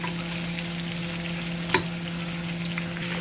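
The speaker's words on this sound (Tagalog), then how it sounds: "Gisa-gisang konti sa butter bago ilagay yung marinating solution." Beef sautéing in butter with garlic and onion in an uncovered frying pan, a soft steady sizzle under a low kitchen hum, broken by one sharp clink of a utensil midway.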